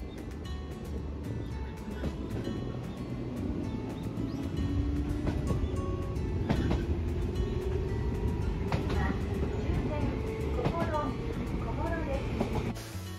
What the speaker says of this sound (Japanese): そして重野駅を発車です。